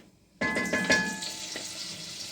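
Butter hits a hot pan for a potato stew and bursts into a sudden loud sizzle after a short silence, with crackling pops that settle into a steady hiss.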